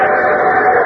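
A steam train whistle sound effect opens a 1952 Railroad Hour radio broadcast, a brief loud sustained chord-like wail lasting under a second with no talking.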